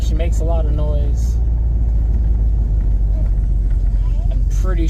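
A big old Cadillac's engine runs with a steady low rumble, close and loud throughout, while a person talks over it at the start and end.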